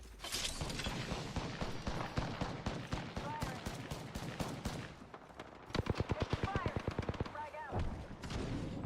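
Rapid automatic gunfire in an Apex Legends or ARC Raiders shooter match, dense bursts of shots with a faster rattling volley near the end, loud and close over game effects.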